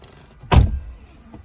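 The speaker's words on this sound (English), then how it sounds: "Close the door." Door of a 2022 Audi E-tron GT shutting from inside the cabin, a single solid thump with a brief rush that fades quickly, heard up close in an otherwise quiet car interior.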